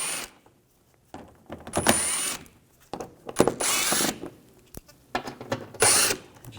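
Power tool with an 8mm socket backing screws out of a panel on a 2006-2010 BMW 550i, three short whirring, ratcheting bursts separated by pauses and a few clicks.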